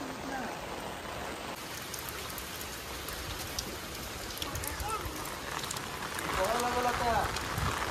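Steady rain falls outdoors during the monsoon around Naag Panchami, a dense, continuous hiss of drops on the ground, close and fairly loud, with a voice speaking briefly toward the end.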